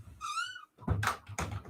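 An interior door in a rented home is opened, giving a short squeaky creak followed by a couple of soft thumps, close and fairly loud, with no talk.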